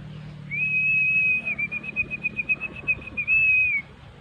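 One close, clear human whistle holds a high note for a few seconds, wavering into quick pulses before tapering off.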